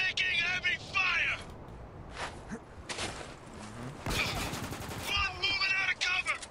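Gunfire from the shooter video game Spec Ops: The Line, with bursts of automatic fire and single shots spread across the clip, loud and mixed with shouted soldier voices.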